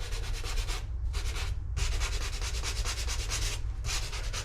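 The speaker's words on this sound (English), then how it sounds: "Now I need to sand, then get ready for painting." Dried wood filler on window trim sanded by hand with 150-grit paper, a steady rhythmic scratching of back-and-forth strokes with two brief pauses, close and fairly loud with no voices.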